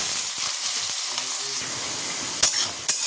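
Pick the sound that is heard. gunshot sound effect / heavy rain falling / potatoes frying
potatoes frying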